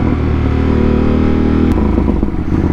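A 2025 Ducati Panigale V2S motorcycle's V2 engine runs loud and close with a deep throbbing rumble, then a sharp shift click followed by a rougher, clattering note.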